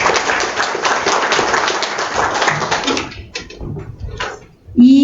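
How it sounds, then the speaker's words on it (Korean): An audience at a transit-extension debate forum applauds a welcomed guest, a dense burst of clapping that stops abruptly after about three seconds, followed by scattered faint claps and a brief voice. "큰 박수로 환영해주시면 감사하겠습니다"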